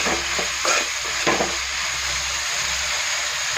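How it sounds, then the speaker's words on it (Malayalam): Bitter gourd sizzles and fries in a pan for pickle under a steady, dense hiss. A few scraping stirring strokes come through in the first second and a half, close and moderately loud, with no voices. "ഇനി നമുക്കിതിലേക്ക് പാവയ്ക്ക് ചേർത്ത് കൊടുക്കാം"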